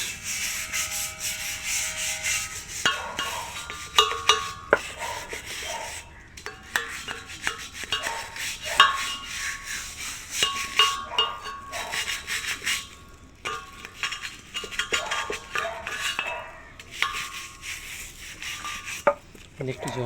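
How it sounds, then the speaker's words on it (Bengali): A brush scrubs something clean during washing, giving close, irregular bursts of rough rubbing and scraping with short pauses between strokes, alone for about twenty seconds. "এই ব্রাশটা দিয়ে একটু ঘষিয়ে দিই, যাতে নোংরা যত ময়লা আছে সব বেরিয়ে যাবে"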